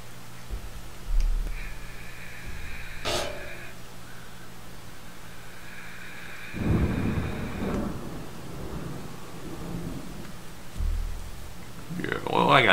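Rain and thunder in the video game Dwarf Fortress: low rolling rumbles swell and fade over a steady rain hiss, with a few brief higher tones, moderately loud throughout.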